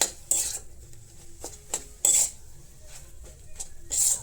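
Mashed potato filling stirred in a pan for parathas, with a metal spoon clinking and scraping against the pan in irregular bursts, close and loud with no talk.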